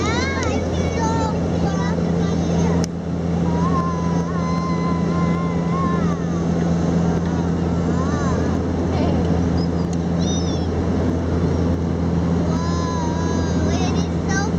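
A small plane's engine drones steadily inside the cabin on a bumpy flight, a constant loud hum under the lively chatter of passengers, including a child.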